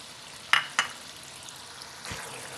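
Masala with yogurt cooks over a low flame, giving a soft, steady sizzle broken by two sharp clicks near the start and a dull knock later, with no speech.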